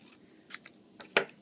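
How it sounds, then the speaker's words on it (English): Scissors cutting card stock for a watermelon card, two quiet, crisp snips half a second apart, the second sharper, over a soft room hush. "with my scissors, I'm just going to take one of these halves"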